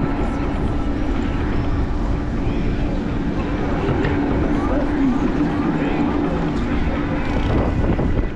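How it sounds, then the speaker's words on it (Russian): Steady wind buffets an outdoor microphone on a May ride around Ordzhonikidze and Feodosia in Crimea, a constant low roar with rumbling gusts that lasts the whole stretch and stays loud throughout. "Да, и тут ветрено тоже"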